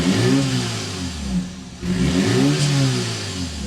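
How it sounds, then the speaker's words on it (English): A 2025 BMW X3 30 xDrive engine fires up and revs, its exhaust note rising and falling in two close, loud surges with a brief dip between them. "start it up so you can hear that exhaust note"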